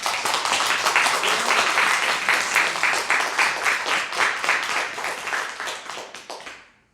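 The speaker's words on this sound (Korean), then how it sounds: "하나님께 영광의 박수 올려드립시다." A church congregation claps in praise during a sermon, with loud, close, individually distinct hand claps forming a steady burst that fades out at the end.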